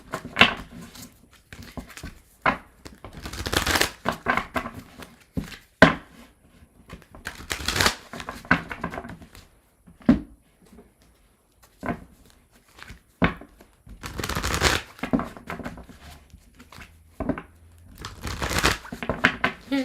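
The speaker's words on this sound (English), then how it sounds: "I'm going to shuffle and move on to Gemini" Tarot cards are shuffled by hand in repeated bursts of riffling and slapping, close and fairly loud, with short pauses between rounds and no voices.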